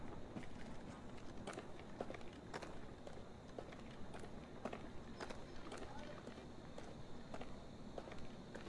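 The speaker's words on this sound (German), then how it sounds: "Hört ihr die Schritte?" Footsteps sound in Far Cry New Dawn, a fairly faint, steady run of regular soft steps over a background murmur, with a voice talking at times.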